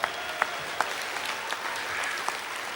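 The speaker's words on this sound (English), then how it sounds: "thanks for that applause for her" Audience applause for a performer's wife at an Irish award event, a soft, steady patter of clapping from a room of people with a few sharper individual claps standing out.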